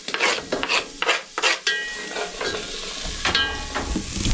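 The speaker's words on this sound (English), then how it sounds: "Kind of sweat them in the little bit of oil that came off the chorizo" Onion sweating and sizzling in a pan of rendered chorizo grease in an off-grid cabin kitchen, with steady frying crackle, occasional stirring scrapes and a louder burst of sizzle near the end.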